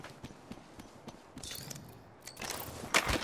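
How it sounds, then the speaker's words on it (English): Care package drop arriving in the battle royale game Apex Legends, a run of mechanical clanks and ratcheting clicks that swells into a louder whooshing, clattering rush toward the end, with no talk. "Care package being delivered."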